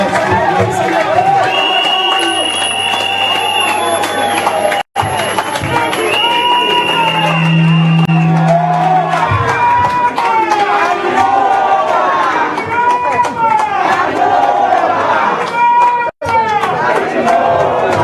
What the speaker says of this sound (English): please let's give a round of applause for Dr. Samura Matthew